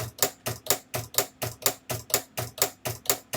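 A Silhouette Cameo cutting machine cutting out bag toppers, giving a steady run of sharp, evenly spaced clacking strokes, about three per second, close and clear with no talk.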